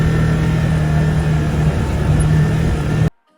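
A Can-Am Maverick Trail side-by-side idles close and loud with a steady low rumble and a hum, running evenly for about three seconds before cutting off abruptly.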